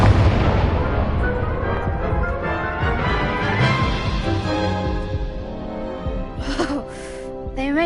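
A loud, booming Incendio fire-spell blast erupts in the Hogwarts Legacy video game, fading into a rumbling tail with softer effects at the end.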